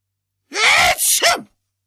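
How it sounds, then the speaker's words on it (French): A single loud, explosive sneeze with a sharp burst and trailing exhale, heard up close with nothing else around it. "son éternuement énorme, même 4 étages plus bas"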